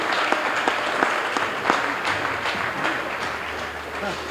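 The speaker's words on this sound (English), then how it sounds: "let's all say thank you and give applause to DJ Hill" Applause for DJ Hill at a city employee and volunteer recognition dinner, a banquet-room crowd clapping steadily with a few sharper individual claps standing out, moderately loud with faint murmuring voices underneath.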